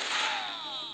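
A single sharp gunshot in the video game Max Payne cracks and rings out briefly, with a quick decaying tail, fairly loud and alone.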